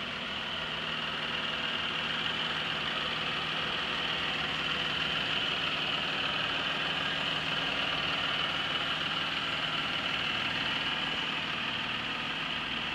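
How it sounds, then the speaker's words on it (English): A 2012 Jeep Wrangler Sport V6 engine idles continuously with a broad, even hum and a constant mid-range drone, loud and close throughout, with no voices. "I'm going to walk by this engine so you can get a good look at just how it runs."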